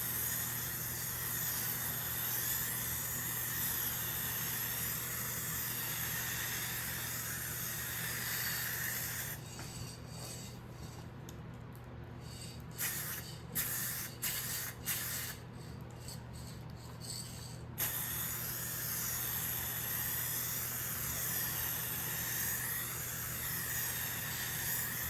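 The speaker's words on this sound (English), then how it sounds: "then I'm gonna start spraying the exact same way" An aerosol spray can hisses while coating a guitar body with paint, a constant loud spray broken midway by several short gaps and bursts before resuming steadily.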